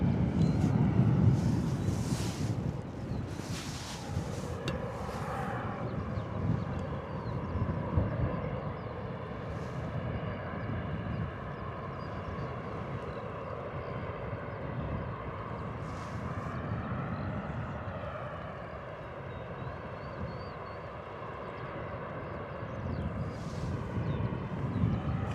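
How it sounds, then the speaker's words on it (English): A Ryanair Boeing 737 airliner arrives at Bristol Airport: a steady, broad jet roar with a faint engine whine holds for the whole stretch, mixed with gusting wind noise across the microphone and no talking. "All right, beautiful arrival from our Ryanair 737"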